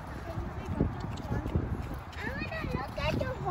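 Horse hooves clip-clopping at a historic site, a rhythmic knocking mixed under people talking nearby.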